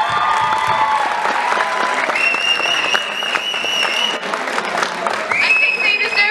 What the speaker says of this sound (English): I think they deserve a really big round of applause, please.